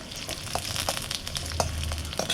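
Sliced onions sizzle steadily in hot oil for a mushroom pepper dry, a dense crackling hiss with occasional sharper pops and light stirring scrapes, close and continuous with no voices.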